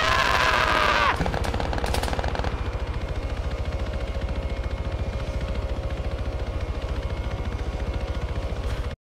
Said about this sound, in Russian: Это за мной боевой вертолет летит.